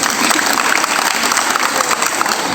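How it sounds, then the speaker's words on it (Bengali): Loud, dense applause from a crowd of students fills a high school madrasah classroom with continuous clapping. "ওর জন্য একটা জোরে হাততালি।"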